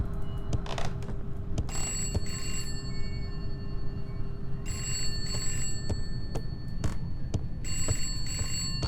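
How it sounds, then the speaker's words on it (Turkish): A telephone rings in a horror video game, its bell sounding in several repeated bursts over a steady low, rumbling ambient drone. "Telefon nereden çalıyor? Buradan çalıyor okey."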